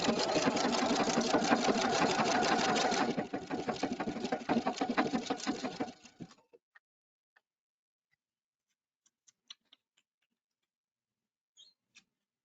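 An Epic 2 sewing machine stitches sequins onto fabric with a fast, steady mechanical whirring that slows and stops after about six seconds, followed by a few faint isolated clicks.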